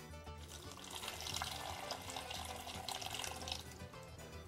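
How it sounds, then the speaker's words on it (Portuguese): Guavas being washed under running tap water in a sink, a steady continuous splashing flow with no talk. "Primeiro passo, lavar a goiaba, aí de casca."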